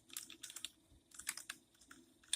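Keys clatter on a Dell L100 computer keyboard in quick, uneven bursts of sharp clicks, close and fairly quiet, with brief pauses between flurries of typing.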